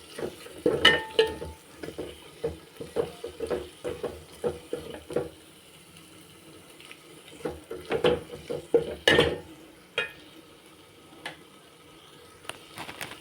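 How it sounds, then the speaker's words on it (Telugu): A metal spoon stirs potato curry in a pot, with repeated clinks and scrapes against the metal in uneven bursts, pausing and resuming, close and fairly loud, with no talk. "ఇప్పుడు మనం ఇదంతా మనము కలబెట్టుకోవాలండి"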